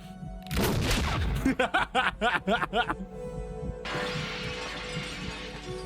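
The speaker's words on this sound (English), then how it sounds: "she's like running in a straight line through glass away from a gun" Glass shatters loudly in a chase through a shopping mall in the 1982 film Blade Runner, one sharp crash with a scattering tail, followed by several bursts of nearby laughter and then a steady background hiss.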